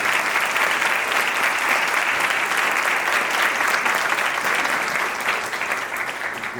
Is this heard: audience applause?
yes